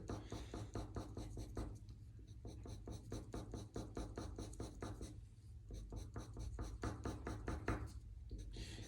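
A graphite pencil shades tone on paper in quick, steady back-and-forth strokes, a close, continuous scratchy rhythm that runs for several seconds with only brief pauses.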